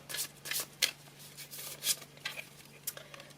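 Tarot cards being shuffled for a reading, a series of crisp riffling and slapping bursts at an irregular pace, close and fairly quiet with brief pauses between.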